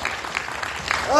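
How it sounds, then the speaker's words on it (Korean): Audience applause at an outdoor autumn music concert held by a volunteer group at a traditional market, a short steady patter of clapping with a voice talking over it and rising toward the end. "자, 박수 한번 주시기 바랍니다."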